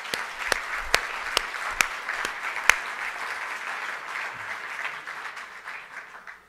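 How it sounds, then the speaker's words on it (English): Round of applause from a conference audience at a Middle East strategy forum, steady moderate clapping with a few sharp, close individual claps standing out early, fading out at the end. "Please give them a round of applause"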